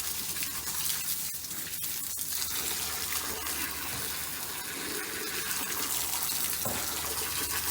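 Water rushes steadily through a tankless water heater line as it is flushed out, a loud continuous gush like a running tap with no pauses.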